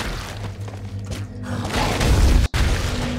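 A booming explosion in the video game Gauntlet swells over a dense bed of game noise and rumble, peaks near the end, then cuts off abruptly before the background noise resumes.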